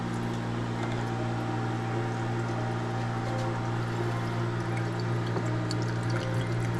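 Water pours in a steady, unbroken stream for several seconds, a continuous splashing rush over a low background hum.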